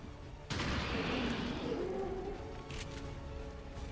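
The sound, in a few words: soldier shooting in video game XCOM 2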